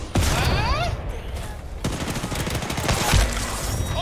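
Rapid bursts of automatic gunfire from an Apex Legends match, loud and close with a brief lull midway, then heavier fire again, while players' voices come through underneath.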